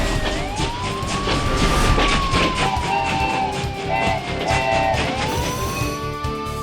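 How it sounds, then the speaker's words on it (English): A cartoon ambulance train races through a city, its siren sliding up and down over a busy, dense backdrop of animated soundtrack and motion noise. "The ambulance train started again,"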